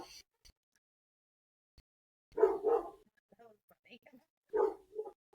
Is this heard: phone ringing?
no